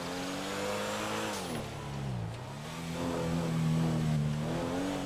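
Engine of a Rolls Royce Dawn convertible driven top down in GTA 5, revving close and loud, its pitch sliding down and climbing again through several gear changes, the steady motor note continuing alone without voices.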